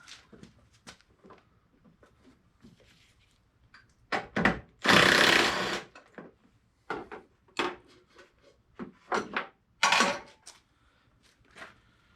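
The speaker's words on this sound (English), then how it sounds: "Let's see if we can get a crescent wrench on it." A crescent wrench works a nut on a Jeep Wrangler TJ front fender, giving scattered metallic clicks and clanks with one longer scraping rattle, close and fairly quiet with gaps between.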